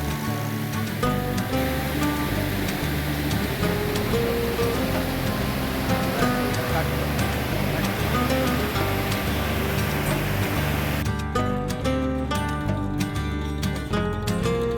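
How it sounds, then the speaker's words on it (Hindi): The Sano Ghaghara waterfall in Keonjhar flows with a steady, dense roar of rushing water that holds at an even loudness throughout, with no voices over it. "लीजिए हम आ पहुँचे हैं सानो घाघरा वाटरफॉल के पास।"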